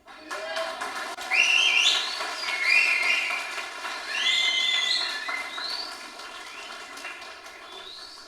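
A preacher at a residential retreat whistles with the mouth, sending out a run of bright, sliding, tune-like whistles across several seconds. The whistles are loud and close against a steady hum in the room.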